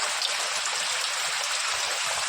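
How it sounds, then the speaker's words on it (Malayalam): Heavy rain pours down steadily with running water, a dense, even hiss that stays constant and loud throughout, with no voices. "അപ്പം മഴ പെയ്തുകൊണ്ടിരിക്കുകയാണ്"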